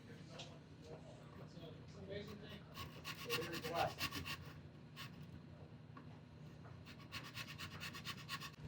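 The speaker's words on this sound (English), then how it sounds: "start filing on it" A flat nut file rasps back and forth across a bass guitar nut in a repair workshop, a steady scraping rub in repeated strokes that swells around the middle and continues close and moderately loud.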